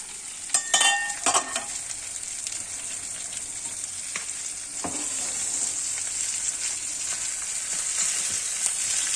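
Fish fries in a covered pan with a steady, even sizzle that hisses continuously throughout, close and moderate, broken by a few sharp spits and pops early on and occasional faint clinks.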